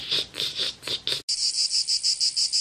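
A human voice imitates a cicada with a rapid, buzzy chirping, first in short pulsing bursts, then a brief pause and a steadier run of shrill repeated pulses, close and alone.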